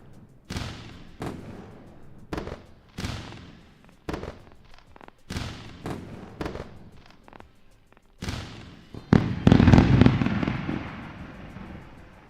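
A string of fireworks bursts one after another in sharp, separate cracks and booms. The blasts thicken into a denser crackling volley near the end.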